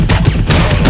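A Counter-Strike 1.6 gun fires close and loud in a quick burst of several sharp shots within about a second, packed into dense in-game gunfire.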